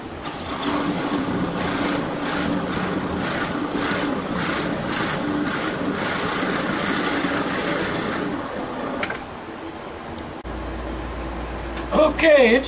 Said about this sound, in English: So let's get it drilled out.